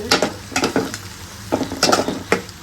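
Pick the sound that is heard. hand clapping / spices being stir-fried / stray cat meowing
spices being stir-fried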